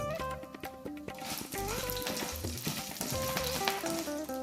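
Curry leaves and chopped garlic sizzle in hot oil, a close crackling fry heard beneath background music.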